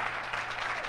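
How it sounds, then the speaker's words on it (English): Audience applause at a guide dog and service dog graduation ceremony, a steady wash of clapping hands filling the room at even loudness. "we need to give them a huge round of applause"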